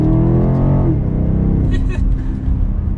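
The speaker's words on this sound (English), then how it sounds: "That V8 has a good sound too." A 2022 BMW X6 M50i's V8 engine pulls hard under acceleration, its loud, steady low rumble rising and then settling into a deep drone that continues throughout.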